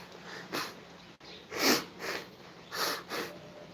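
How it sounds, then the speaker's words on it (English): A few sharp, breathy nasal blasts and snorts in quick succession, close and fairly loud, like someone blowing their nose. "I gotta blow my nose."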